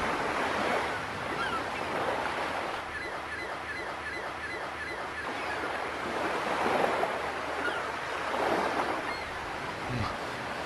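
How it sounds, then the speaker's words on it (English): Ocean waves wash and crash steadily in an ambient game soundscape from Vindictus, a continuous surf roar with rhythmic surges, heard alone with no voices. "But these waves crashing."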